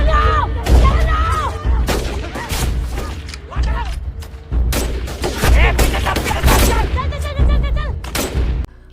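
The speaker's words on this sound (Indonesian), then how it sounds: "Pulia dan pasukannya terus membalas tembakan polisi." Film gunfire from a police shootout, with rapid volleys of shots and booming thuds layered under music and voices, loud and dense throughout.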